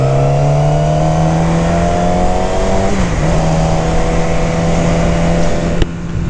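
Motorcycle ride heard from the rider's helmet, with a loud steady engine drone, a brief pitch dip as the rider shifts, and constant wind rush throughout.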